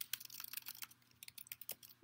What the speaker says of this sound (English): I'll type that in the chat